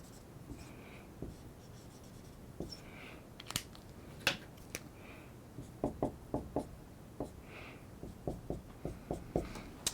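A pen scratches and taps across a surface while drawing an organic chemistry diagram, with quiet strokes and clustered clicks in an irregular rhythm, close and soft.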